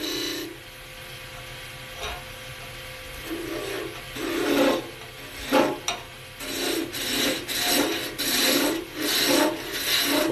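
A skew chisel scrapes and rasps against spinning wood on a lathe during fine detail work around a small cove, in a series of close, uneven cutting strokes that grow louder and more frequent toward the end.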